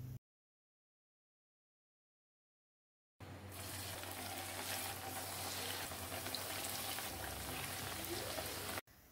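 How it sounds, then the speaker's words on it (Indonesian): Tempeh mendoan frying in hot oil, a dense steady crackle and sizzle that starts abruptly after a silent gap and runs loud and unbroken until the very end. "Dan tempe mendoan ini digoreng setengah matang ya teman-teman, jangan terlalu kering."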